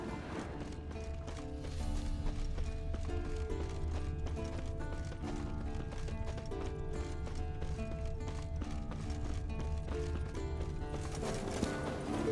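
Scorpion, a purebred Kaedweni warhorse in The Witcher 3, clops along with steady, even hoofbeats that stay faint beneath continuous music.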